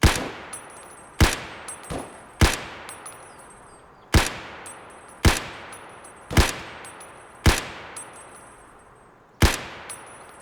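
Rifle shots from Escape From Tarkov in the Woods map, about ten sharp, loud single reports spaced irregularly, each with a short ringing tail, no talking over them.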